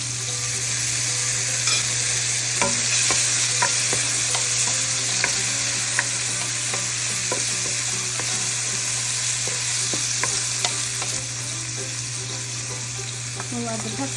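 Garlic frying with squid in a pan, a continuous loud sizzle with frequent clicks and scrapes of stirring and a steady low hum underneath.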